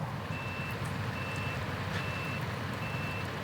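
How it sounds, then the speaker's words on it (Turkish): Truck reversing alarm in the off-road driving game SnowRunner, a steady series of evenly spaced electronic beeps over a loud, rumbling engine drone. "Bir dakika şöyle geri vitesi alayım."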